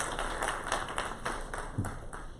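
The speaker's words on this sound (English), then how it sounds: "you can give him a round of applause" An audience at an Air Force enlisted career town hall gives light applause, fairly quiet, evenly paced claps in a room with no talking.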